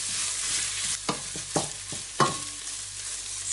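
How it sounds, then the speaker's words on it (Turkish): Steady sizzling of tomato paste frying in a hot pan, with a few scraping strokes of a spoon stirring through it. "Salçam da kavruldu."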